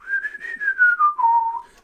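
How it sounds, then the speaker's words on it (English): A melodic whistle opens a rock and roll record on the Vertigo label, a single sustained tune gliding gently downward in pitch, clear and fairly close with no voices over it. "Nice little bit of whistling at the start of the song there."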